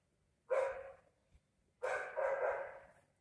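Dogs bark in the evening in Israel, two bursts of yelping, howling barks, the second longer and drawn out, fairly distant against a quiet background.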